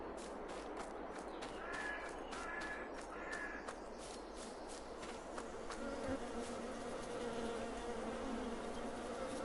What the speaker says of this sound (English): beehive